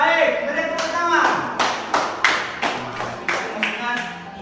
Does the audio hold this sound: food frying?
no